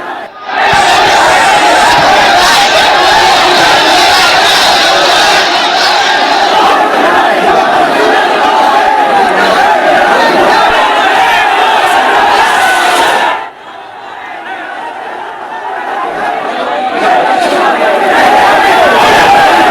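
A large crowd of protesters in Bareilly, Uttar Pradesh chants slogans loudly and continuously, a dense roar of voices that breaks off briefly before swelling again.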